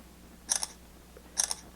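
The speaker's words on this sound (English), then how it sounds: "just going to launch the camera and hit the shutter button" Two crisp simulated shutter clicks from a Samsung Galaxy S5 phone camera, each a quick double-tick, spaced about a second apart, close and clear over a quiet room with no talking.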